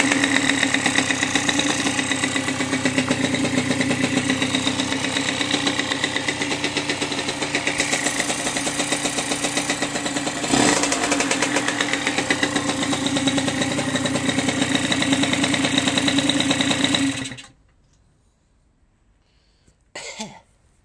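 A rebuilt 2016 Derbi Senda X-Treme DRD SM 50 motorcycle with a freshly fixed, slightly smoky exhaust idles close by in a steady, buzzing rhythm for about seventeen seconds. The engine then cuts out, leaving near silence with one brief noise near the end.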